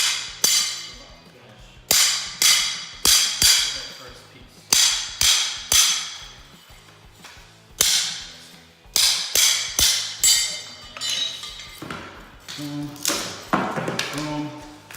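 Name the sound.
pry bar pulling up carpet tack strips and nails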